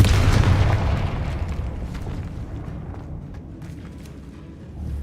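Booming spell explosions from Confringo and Bombarda in the Hogwarts Legacy video game: a loud, heavy blast at the start, then a long rumbling decay with a fresh swell near the end.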